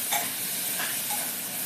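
Tomato hits a pan of softened onions and green chillies for mutton keema curry, raising a steady hissing sizzle with a few soft stirring scrapes, near and continuous, with no talking.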